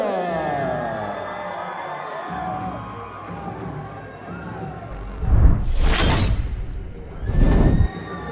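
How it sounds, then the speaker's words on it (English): A crowd cheers for an MMA fighter walking out for a 135-pound bout at a combat sports event, with entrance music playing and two loud bursts of cheering and whooping rising over it. "James Wilson getting a big, loud reaction from the crowd here."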